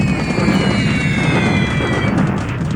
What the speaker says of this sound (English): Now I make some bombardment here.